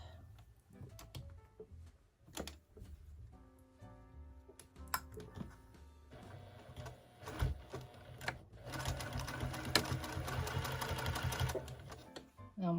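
A sewing machine stitches the fabric of a butterfly quilt block in short starts and a longer steady run, its fast needle chatter quiet and close, with a soft voice talking between bursts.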